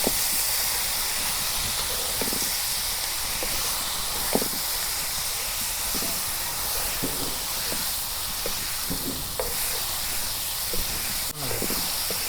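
Pumpkin leaves fry in a pan with onion, giving a steady sizzling hiss throughout with occasional small pops and stirring knocks, no talk over it.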